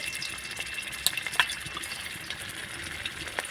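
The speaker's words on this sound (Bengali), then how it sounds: "তেল গরম হয়ে গেছে হাফ চামচ দিব আদা কুচি" Chopped ginger frying in hot white oil in a wok gives a soft, steady sizzle, broken by a few brief clinks and stirring scrapes, heard close and at moderate loudness.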